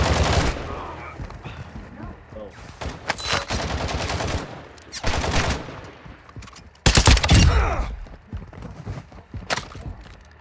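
Gunfire in a Call of Duty match: repeated bursts of automatic fire and single shots at varying distance, with one heavy close burst near the end and game ambience between.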